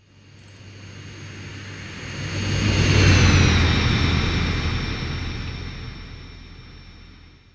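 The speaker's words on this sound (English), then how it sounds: "The modern airplane sounds okay" A modern airplane passes by, its engine roar swelling steadily to a loud peak at mid-pass and then fading with a smooth downward pitch shift, with no voices.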